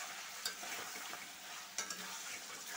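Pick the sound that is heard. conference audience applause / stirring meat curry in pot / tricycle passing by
stirring meat curry in pot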